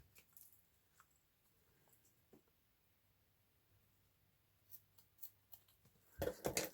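Scissors trim paper for handmade book page pockets and tags: a few faint, sparse snips early on, then a louder burst of close crisp cutting at the end, against a quiet background.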